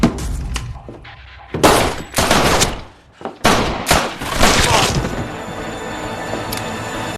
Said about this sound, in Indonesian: Semua pengawal menembakinya, namun Fang Ji masih berusaha untuk bertahan dan berlindung sambil membalas tembakan mereka